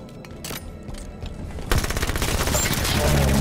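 Automatic gunfire in the Halo 5 Guardians shooter game: after a quieter lead-in, a loud sustained burst of rapid shots breaks out and keeps going to the end.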